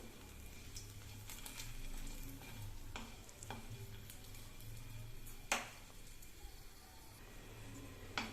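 Something sizzles steadily in hot oil while being fried, probably the asafoetida or chillies for a pickle, with a few sharp clinks and scrapes of a spoon against the pan over the frying hiss.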